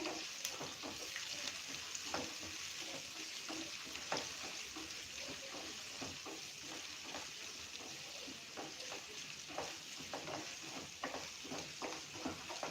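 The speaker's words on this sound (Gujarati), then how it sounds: "એટલે આપણી ડુંગળી અને મગફળીના દાણા મસ્ત એવા રોસ્ટ થઈ જાય." Onions and peanuts roast together in a pan for batata poha, with a continuous soft sizzle and frequent scraping taps from stirring, fairly quiet and close.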